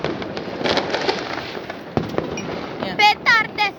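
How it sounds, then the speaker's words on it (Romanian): Firecrackers bursting outdoors on New Year's Eve, a dense crackling stream of sharp pops and bangs, with excited voices chattering over them and a few louder shouts near the end. "Petarde!"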